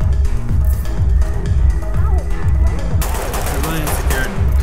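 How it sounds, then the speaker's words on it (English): Gunfire in the tactical shooter Ready Or Not, with rapid bursts of shots from a firefight in a nightclub atrium and dance floor, sustained and loud, denser near the end, with a voice briefly under it. "Shots."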